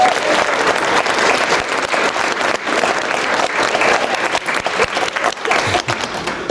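Sustained, loud applause from a wedding reception crowd fills the room after a speech, dense steady clapping that continues throughout without pause.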